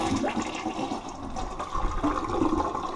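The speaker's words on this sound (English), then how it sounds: "Let's give it a flush." Mansfield toilet with a newly replaced flush valve seal flushing, a loud close rush of draining water lasting several seconds without pause.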